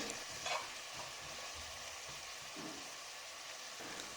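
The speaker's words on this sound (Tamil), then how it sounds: "தக்காளி நல்லா வெந்து கூட்டு மாதிரி வர வரைக்கும் வதக்கணும்" Tomatoes softening in a pan during preparation of prawn dum biryani, giving a faint, even sizzle with a few soft stirring scrapes, quiet and steady throughout.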